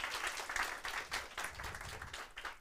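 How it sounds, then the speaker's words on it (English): Faint, scattered audience applause at a cybersecurity talk, a few hands clapping unevenly for a couple of seconds. "So that I think is maybe worth an applaud."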